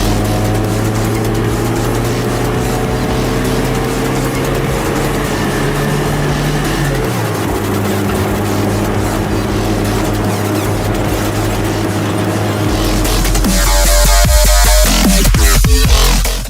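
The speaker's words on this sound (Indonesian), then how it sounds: "Sekarang kita dengar suara mesinnya kalau digaspol." A Toyota Kijang Super G engine is revved at full throttle, a loud, steady, close-up drone that shifts down in pitch partway through, then grows rougher and louder in a final burst.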